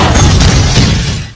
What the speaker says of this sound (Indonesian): Yufa menembak tabung pemadam kebakaran hingga menimbulkan ledakan.